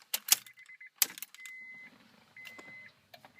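Car key turned to switch on the power of a 2002 Acura TL-S: keys jangle in a few short metallic bursts, then chimes sound as the ignition comes on, close and quiet with no talking.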